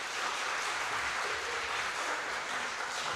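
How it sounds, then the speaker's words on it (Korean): A church congregation claps steadily to encourage the young people, a soft, dense wash of applause that holds unchanged throughout, with no voices over it. "우리 청년들에게 격려의 박수 한번 보내주시면 감사합니다"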